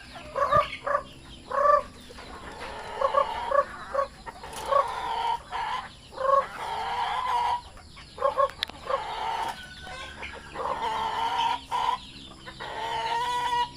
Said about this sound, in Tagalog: Pakain na naman ng mga manok.